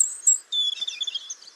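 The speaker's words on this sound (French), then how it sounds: "Le rouge-gorge, c'est le chant un peu mélancolique, un peu tristoun." A European robin sings a short, high, thin warbling phrase of sweet trills and tremulous notes, clear and alone against a quiet background.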